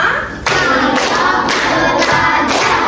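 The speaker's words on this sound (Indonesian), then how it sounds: "Tepuk 1, tepuk 2, tepuk 3, tepuk 4, tepuk 5" Children in a classroom clap together in counted bursts, loud, dense rounds of claps with brief accents near each half-second and second mark, continuing steadily without talk.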